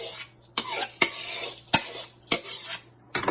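Rice is stirred into a pot of coconut cream and peas, a sequence of sharp spoon knocks against the pot separated by wet, soft stirring noises, close and intermittent.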